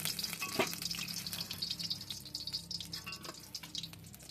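Banana flower fritters sizzle in hot oil, a steady crackling fry with small pops and bubbling, close and moderately loud, with no voices.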